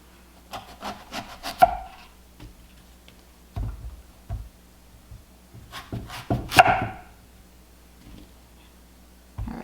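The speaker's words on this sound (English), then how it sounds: "All right, I'm going to cut the ends off." A knife chops the ends off a vegetable on a wooden cutting board in a homestead kitchen, giving a few close, sharp thuds and scraping rubs spaced out over quiet.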